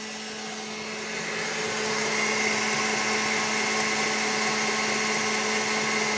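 A stand mixer runs steadily on high while whipping cream for a Christmas log cake, a loud continuous motor whir that builds over the first second and then holds even, with no talking.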